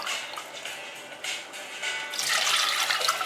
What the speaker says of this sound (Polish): Uzupełniam wodę.